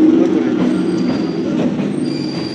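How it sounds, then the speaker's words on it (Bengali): A train pulls into a station, with a loud, steady rumble of wheels and carriages, squealing metal, and a faint high whine running throughout. "এখন ট্রেন এসে গেছে, আমরা এখন উঠবো।"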